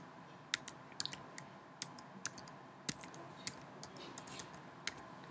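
Irregular keystrokes on a computer keyboard while a case number is entered, a sparse series of sharp, close clicks over a faint steady background hum.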